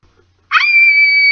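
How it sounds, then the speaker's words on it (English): A woman's sustained, piercing scream in a tense cleaver attack, starting abruptly after near silence and holding a steady high pitch to the end. "She screams again."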